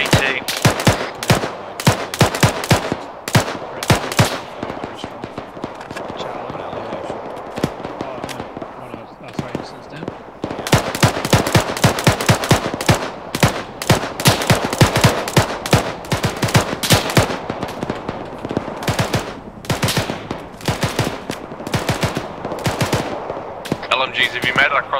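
Bursts of light machine gun fire in a military video game, rapid repeated shots in clustered volleys with a pause near the middle, loud and close, with voices talking faintly underneath.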